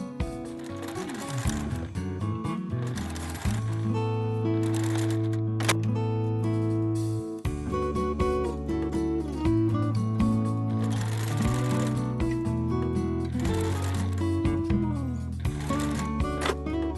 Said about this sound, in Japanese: 同じように端から端まで縫うで。